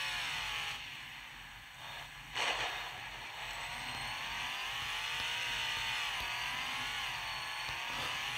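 A Land Rover's engine revs hard as its wheels spin while it struggles up a hill, a steady, fairly loud drone with a brief surge partway through and no talking.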